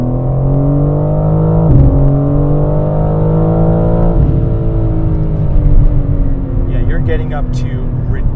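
A BMW M4 Competition xDrive (G82) pulls hard in sport mode, its engine note climbing loud and close through rising revs with an abrupt shift break, then settling into a steady high drone with faint chirps near the end.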